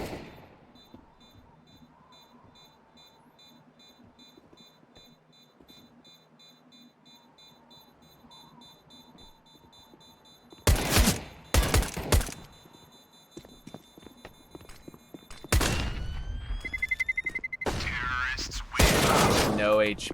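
AK rifle fire in a competitive Counter-Strike match: after a long stretch of quiet in-game ambience, loud, sharp bursts of automatic gunfire crack out in several separate volleys near the end.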